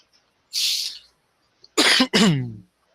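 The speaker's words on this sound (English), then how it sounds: "Oh, excuse me for coughing again." A person coughs close by: one breathy hack, then a brief pause and two harsh coughs in quick succession, loud against near silence.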